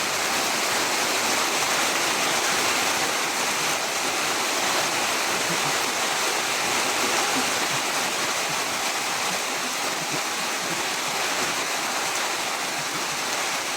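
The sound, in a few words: rain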